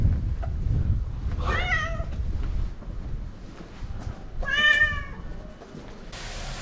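A cat meows twice outdoors on a windy street in Abashiri, Hokkaido, two clear, drawn-out cries a few seconds apart over low rumbling wind noise.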